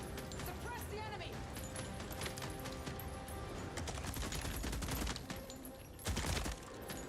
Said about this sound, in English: What is she shooting at?